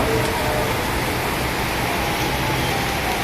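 Heavy rain pouring outdoors makes a dense, unbroken roar of broadband wash that holds at an even level throughout, with no talk.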